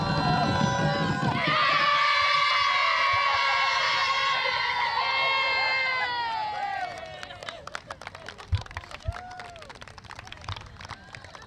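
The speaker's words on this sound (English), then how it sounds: "We want to hear the big cheer as we wrap up that." A crowd lets out a big, loud cheer with whoops and shouts as the Thailand women's cricket team celebrates winning the T20I series final in Hong Kong. The cheer then fades into scattered claps, chatter and movement.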